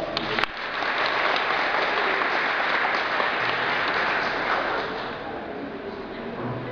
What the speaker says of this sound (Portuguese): salve palmas